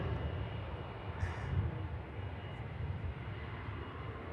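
An airplane at Manchester Airport, a steady broadband engine roar that holds evenly throughout at moderate distance, with no voices over it.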